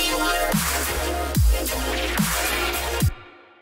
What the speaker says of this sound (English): Today I'll show you how to make Colorbass lasers,